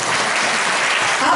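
A church congregation claps together during a Hindi sermon, producing a loud, thick wash of applause that holds steady without a break.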